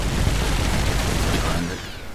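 Shooter video game gunfire, a dense, loud, continuous burst of shots that thins out at the end, with no clear talk over it.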